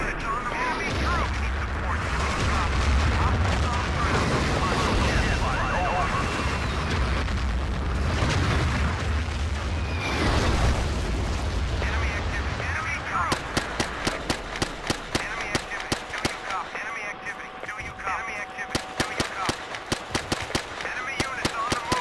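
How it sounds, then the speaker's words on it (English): Artillery fire and explosions in the Battlefield 2 video game: a dense, loud rumble of booms for about thirteen seconds, then a rapid run of sharp cracking shots and thuds. "Their artillery's firing"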